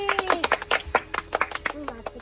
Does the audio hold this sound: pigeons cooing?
no